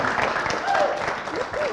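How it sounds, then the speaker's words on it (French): Applause rolls on steadily while voices talk over it. "On va l'applaudir"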